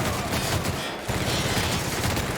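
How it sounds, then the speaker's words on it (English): Loud, dense gunfire erupts in a firefight in The Outer Worlds video game, with rapid overlapping shots forming a continuous fusillade and a brief dip before it resumes. "Is she shooting at me?"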